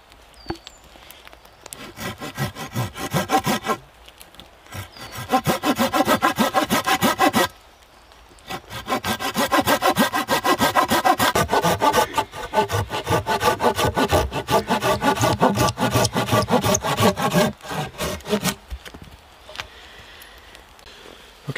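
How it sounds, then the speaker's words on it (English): Handsaw cutting a small wooden piece for a hinge at a bushcraft camp, rhythmic back-and-forth rasping strokes, close and loud, in several bursts with brief pauses between. "the next step is to cut your piece for your hinge"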